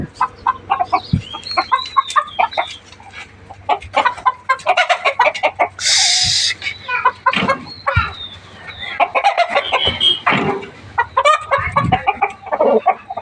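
A rooster on a farm clucks in repeated short bursts, interspersed with a brief loud crow, close and clear, with other faint fowl chatter and knocks around it.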